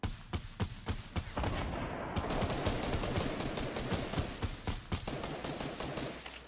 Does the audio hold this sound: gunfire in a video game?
yes